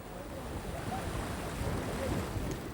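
Steady wind buffeting the microphone over breaking surf at the seashore, a continuous broadband roar of waves and gusts with no voices, loud and close throughout.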